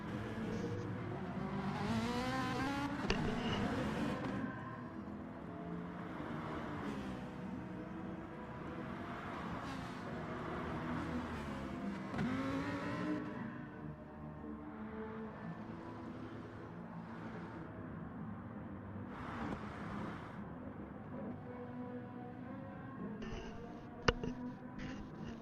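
Race cars roaring around the Red Bull Ring in a racing video game, engines rising and falling through gear changes as cars pass, a sustained whine that thins out toward the end with no speech.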